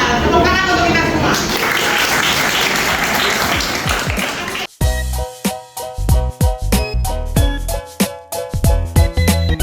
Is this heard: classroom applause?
yes